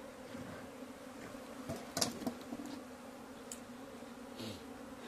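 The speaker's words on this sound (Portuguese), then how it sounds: "observando aí as abelhas indo pra lá" Honeybees buzzing around hives at an apiary, a continuous droning hum with individual bees passing close by now and then, plus a few light knocks and rustles in the background.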